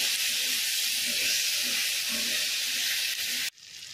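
Boiled raw banana and crushed garlic fry in a pan with a loud, steady sizzle and hiss, close by, for several seconds before cutting abruptly to a quieter, fainter sizzle.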